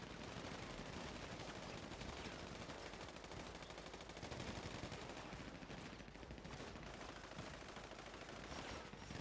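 Dense, rapid gunfire in a Grand RP video game during a gun store robbery, sustained bursts of automatic shots layered into a loud, continuous barrage.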